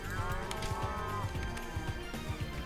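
A blocky Minecraft cow lets out a drawn-out moo near the start, over a busy game soundscape of rapid, rhythmic footstep thumps and scattered clicks.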